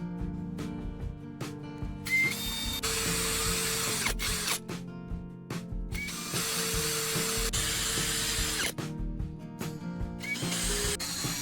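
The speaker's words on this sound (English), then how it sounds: "Then drill the 3 holes through the marks." Power drill boring three holes through PVC plastic knife handle scales, a steady whirring grind with brief pauses and restarts between holes, close and fairly loud throughout.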